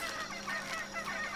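A turkey in Shadow of the Tomb Raider gives a short burst of nasal, honking gobbles, a few rapid pulses within about a second, fairly faint.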